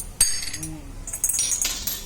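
Small metal bowls and utensils clinking as an offering plate is filled, scattered bright clinks and taps at close range with brief pauses, a voice speaking briefly in between.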